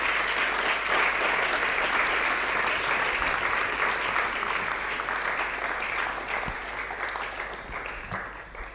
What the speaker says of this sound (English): Ladies and gentlemen, with a huge round of applause, help me welcome Dr. Tony Watin Jesse.